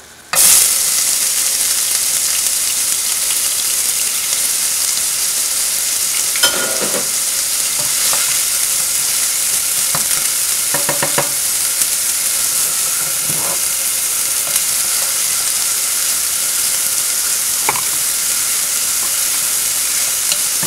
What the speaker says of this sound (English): Okay, the sofrito has to fry a little bit.